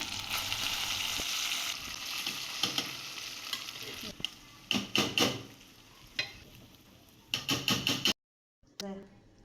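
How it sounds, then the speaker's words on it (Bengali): Khichuri cooking in a pot with oil, panch phoron, dried red chilies, bay leaves and garam masala powder: a steady close sizzle, then bursts of spoon-stirring scrapes and clatter, a brief dropout near the end. "খিচুড়িতে দিয়ে দিচ্ছে গরম মশলা গুঁড়া এটা একটু নেড়ে ছেড়ে নিয়ে নামায় নিবে"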